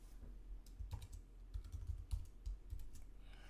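Fingers type text on a computer keyboard in an irregular run of close, crisp key clicks and thumps, with no talking.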